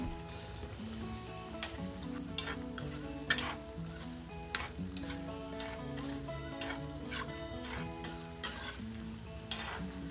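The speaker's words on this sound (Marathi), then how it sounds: "लो टू हाय फ्लेमवर तुम्ही ते तळा." Wheat flour and jaggery gulgule deep frying in hot oil, a steady close sizzle overlaid with irregular sharp clicks and spoon taps against the pan, with background music playing.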